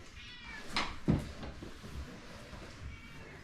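A cat gives a couple of short, clear meows that rise and fall in a quiet indoor room, with light rustling between the calls.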